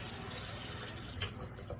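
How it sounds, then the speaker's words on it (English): Water runs from a sink tap in a steady, close hiss that fades slightly toward the end. "So turn off the water,"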